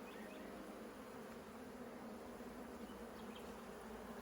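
Honey bees from a swarm colony buzz steadily and close during a hive inspection, a dense continuous hum with no talking.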